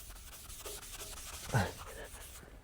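Scotch-Brite abrasive pad scrubbing a painted metal boat hull, a steady close rasping rub with one brief louder scrape near the middle.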